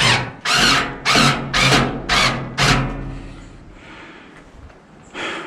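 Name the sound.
bolts being tightened during fire pit assembly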